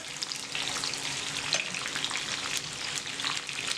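Courgettes with oregano and pepper frying in a pan, a steady close sizzle with bursts of crackle and light stirring throughout, no voices.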